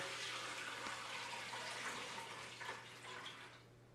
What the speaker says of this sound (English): I am going to pour water in through the top here